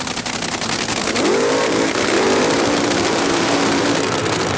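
Top Fuel dragsters at the 1986 NHRA US Nationals, each making about 3,000 horsepower, roar loudly and continuously for the whole stretch, with a rising engine whine sweeping up mid-run.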